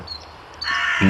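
Two harsh caws ring out from a crow, a short one and then a louder, longer call, against quiet outdoor background.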